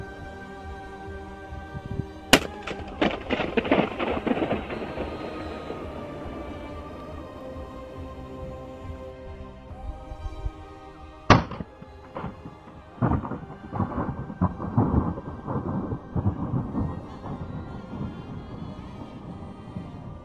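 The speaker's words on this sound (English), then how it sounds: "When slowed down, it sounds just like thunder." A slowed-down balloon sound: two sharp cracks each roll into a deep, booming rumble that slowly fades, much like thunder, loud and near.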